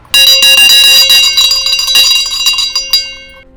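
A loud metal bell is struck rapidly and repeatedly, its bright clanging tones piling up, then the ringing slows and fades out.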